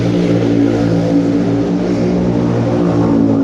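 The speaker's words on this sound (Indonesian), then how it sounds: "Jadi emang iklannya itu suara motor gitu" Motorcycle engine from an advertisement, a loud, steady droning hum with strong low tones that holds evenly throughout with no speech.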